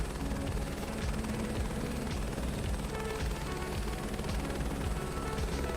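An aircraft in Microsoft Flight Simulator 2024 flying through the Grand Canyon, a steady, fairly faint rotor-like engine drone with a rapid pulsing beat throughout.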